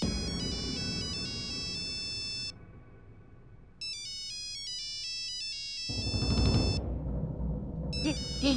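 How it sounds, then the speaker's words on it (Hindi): A phone rings with a melodic electronic ringtone for an incoming call, the tune repeating with a short gap, while a louder muffled rumble rises partway through. "ये युग हमें क्यों फोन कर रहा है?"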